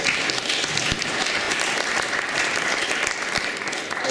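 A hall audience at a political hustings in Edinburgh breaks into steady, dense applause, loud and close, sustained for several seconds without letting up.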